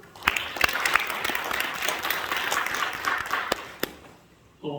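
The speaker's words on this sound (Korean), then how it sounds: "박수 한번 하실까요?" Audience applause at a church ministry seminar fills the room with dense, steady clapping for several seconds, then fades and gives way to a voice near the end.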